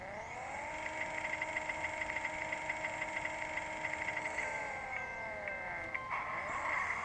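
A Lamborghini Gallardo LP 570-4 SL engine in a racing video game revs steadily, a rising tonal whine that holds, then drops and climbs again as gears change, hitting the rev limiter, with no talk.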